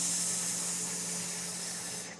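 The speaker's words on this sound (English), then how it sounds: "A bit like letting air out of a balloon, just slowly, slowly." During a slow yoga sequence, a person releases a drawn-out hissing breath through the mouth, a close, even airy stream that cuts off sharply at the end.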